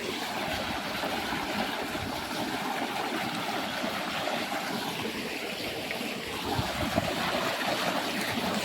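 Irrigation water flowing into a farm field, a continuous rushing, gurgling stream heard up close at an even, fairly strong level, no one speaking.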